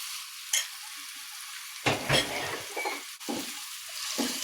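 Onion and green chillies frying in a pan, a steady soft sizzle broken by several scraping stirs and clinks of a utensil against the pan, close and without talk.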